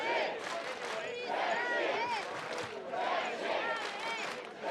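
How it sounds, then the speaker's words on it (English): A large crowd at a Battle of the Nations full-contact medieval fight, Israel vs Czech Republic 5v5, roars and chants wildly for the Czech fighters, a loud, continuous wall of shouting voices. "listen to the crowd now going absolutely crazy for the Czech Republic"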